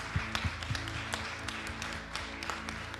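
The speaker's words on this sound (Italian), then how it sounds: "Io penso che dobbiamo cominciare con un applauso" Congregation applauding at the start of a church service, a dense spread of hand claps with sharper individual claps standing out over a low sustained tone.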